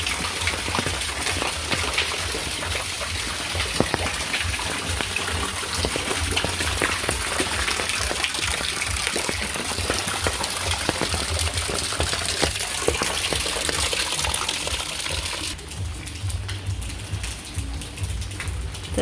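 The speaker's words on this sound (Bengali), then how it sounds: "হঠাৎ করে বৃষ্টিটা হইলে" A sudden rain shower pours down steadily outdoors by a road, a dense, even hiss of falling drops that stays loud and unbroken throughout, with a slight change in texture near the end.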